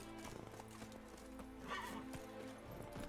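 Hooves clip-clop steadily from the horse Roach in The Witcher 3 video game, joined by a whinny midway, with a low music bed running underneath throughout.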